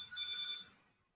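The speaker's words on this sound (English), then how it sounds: "the house phone is just ringing" A house phone rings once, a short bright electronic trill lasting about half a second, fairly faint and alone before fading to silence.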